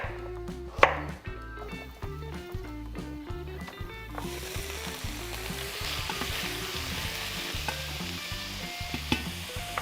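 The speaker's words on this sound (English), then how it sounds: "we want to cut the sweet potatoes into chunks" Sweet potatoes are chopped into chunks with a knife on a cutting board, a steady series of close, sharp taps that continues over a background sizzle of frying food.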